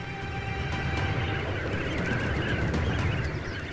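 An agitated flock of ducks on flooded meadows calls continuously as a dense, overlapping wash of quacks and cries, steady and loud throughout.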